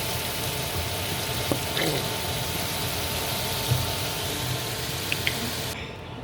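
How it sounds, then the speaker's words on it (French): Meat frying in a pan for homemade tacos, cooked without oil, gives a steady broadband sizzle throughout with a few faint clicks and clinks, fairly close and even in level. "je commence d'abord par faire frire ma viande"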